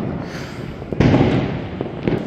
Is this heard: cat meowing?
no